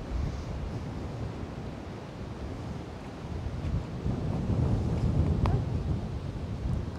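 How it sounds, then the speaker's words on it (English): Wind buffets a microphone with loud, low rumbling gusts that swell and strengthen over several seconds, occasionally crackling. "See, the wind's picking up"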